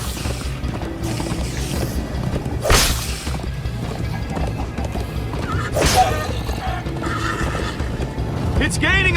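A horse in the Minecraft Story Mode video game neighs in two sharp bursts over a busy game soundtrack with thuds and clatter, while characters talk in between.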